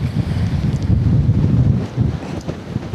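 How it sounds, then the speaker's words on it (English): Gusty wind buffets the microphone during a morning fishing outing, a loud, continuous low roar that swells and dips in uneven surges with no voices. "I never fished in weather conditions where the wind was this gusty"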